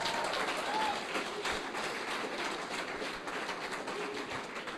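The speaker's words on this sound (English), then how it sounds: "I would like you to give them a better round of applause" An audience at the Nairobi Innovation Week 2018 awards ceremony claps for the category winners, a dense, even patter of many hands that holds steady and tapers slightly toward the end.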